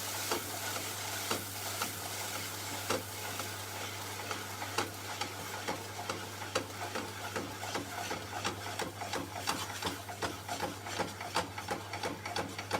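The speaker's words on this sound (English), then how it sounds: "Stir it." A spoon stirs and scrapes food around a pan in steady, repeated strokes with a faint sizzle, heard up close over a constant low hum and with no talking.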